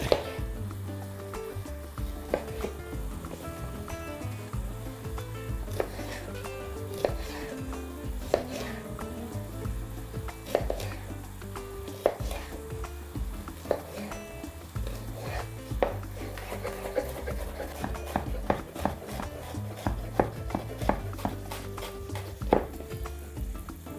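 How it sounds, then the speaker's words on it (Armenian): A knife chops a yellow sweet bell pepper into small cubes for a vegetable pilaf, with quick, steady cuts tapping a board over a continuous tonal background bed, and no talk. "1 դեղին քաղցր պղպեղ, որը կկտրատեմ փոքր խորանարդիկների։"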